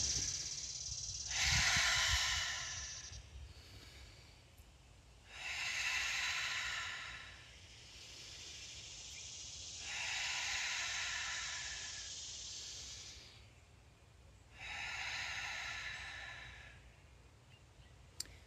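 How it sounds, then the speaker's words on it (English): Slow, deliberate breaths drawn in through the nose and let out through the mouth during a yoga and strength session, four long airy hisses of a few seconds each with quiet pauses between, close and soft. "breathing in through the nose, retaining and releasing like ocean waves out your mouth"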